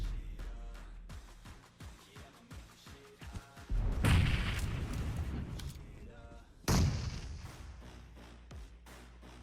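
PUBG Mobile grenade blasts go off as two heavy, loud booms with long, rumbling tails, following a run of lighter gunfire-like pops, while someone talks in between.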